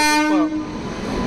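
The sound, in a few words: Mysore–Talaguppa Express train arriving at station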